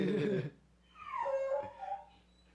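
A dog gives a short, quiet howl: a thin whine that rises and falls for about a second, following a brief louder burst of noise.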